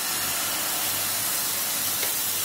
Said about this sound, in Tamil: இப்போ வந்து இந்த மாவு எடுத்து நம்ம வந்து ஊற்றுறோம்